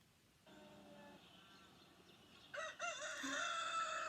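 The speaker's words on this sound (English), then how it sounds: "This bird is called a rooster." A rooster crows loudly and close by, a long drawn-out call followed by a second, higher rising crow.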